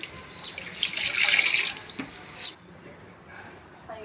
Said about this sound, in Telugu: ఇగో నీళ్ళు పడుతున్నా, నల్ల వస్తుంది.